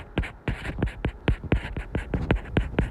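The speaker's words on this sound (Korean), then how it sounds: "요 옆에다가 한번 써볼게요" Pen or marker writing beside a word on paper during a Korean vocabulary lesson, a quick run of about a dozen short scratchy strokes in steady rhythm, close and clear with no talk.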